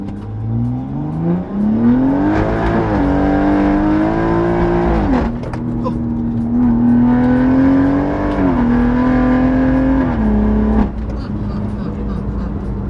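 A hybrid-turbo BMW M140i with downpipe, full exhaust and crackle tune revs loudly nearby, rising and holding in two long pulls with a gear change between them, the exhaust droning richly throughout.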